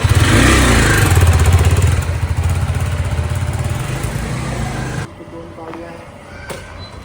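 A motorcycle engine runs loud and near with a rough rumbling idle and revs, then cuts off abruptly partway through, leaving quieter clatter and faint background sounds; a voice is heard over the engine.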